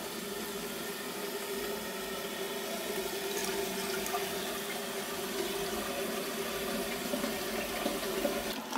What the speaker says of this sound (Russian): Капец, течет вода у меня